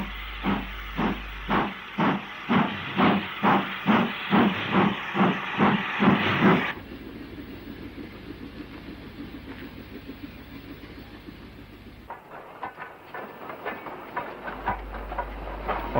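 Steam locomotive 31857 calls at a station on an afternoon up passenger train. First come sharp rhythmic exhaust chuffs, then a long steady hiss of steam, then quick clicking beats as the engine starts away.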